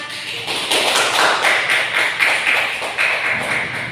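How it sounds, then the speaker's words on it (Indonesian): Classroom clapping for a student group, a small cluster of hands patting in loose rhythm, fairly close and moderately loud, with faint background voices beneath it. "Beri tepuk tangan."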